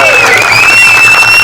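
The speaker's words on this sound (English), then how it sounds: "let's give him a big round of applause" A crowd at a car club meeting claps and cheers for a police officer, steady applause with whoops and shouts rising over a voice.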